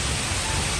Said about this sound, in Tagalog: Ay, lumakas na po ang ulan.